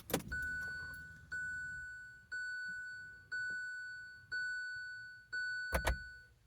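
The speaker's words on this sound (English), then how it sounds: "Maybe I should turn the car on." A car's warning chime dings steadily about once a second as the car is switched on, close and clear in a quiet cabin, with a brief rustle or thump at the start and near the end.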